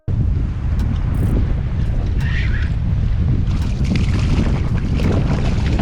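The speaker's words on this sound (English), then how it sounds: "20-mile-an-hour wind" Strong wind of about 20 miles an hour roars across the water and buffets the microphone on a fishing boat near a grass line, a loud, constant rushing that masks nearly everything else.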